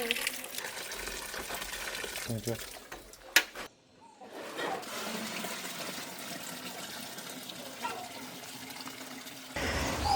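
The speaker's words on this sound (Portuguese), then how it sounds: "Agora só lavar a mão." Running water splashes and gushes steadily while hands are washed under a tap after handling freshly caught crabs, briefly cut off for a moment, then flowing again at close range.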